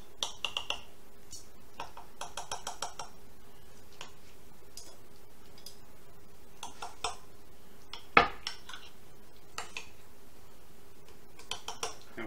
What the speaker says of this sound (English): just go ahead and take a knife, start cutting some of them in half